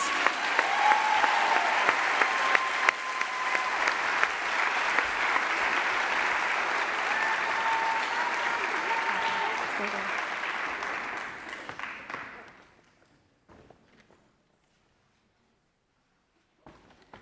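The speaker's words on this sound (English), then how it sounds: "let's give a round of applause" University audience at a State of the University address breaking into dense, loud applause from a large crowd that holds steady, then fades out after about twelve seconds into near silence with a couple of faint knocks.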